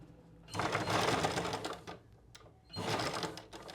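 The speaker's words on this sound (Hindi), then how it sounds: "थोड़ी सी सिलाई शुरू में पक्की करनी है रिवर्स जाके, ठीक है, ताकि प्लेट हमारी खुले नहीं।" A sewing machine stitches tucks in a blouse, running in two close bursts of rapid mechanical whirring. A short pause separates them, and the second burst is briefer, with no talk over the machine.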